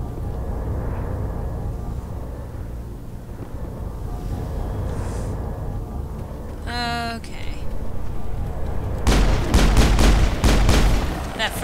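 Gunfire in the video game Mass Effect: a burst of several loud, rapid shots near the end, heard over a steady bed of game ambience with a sweeping electronic effect just before.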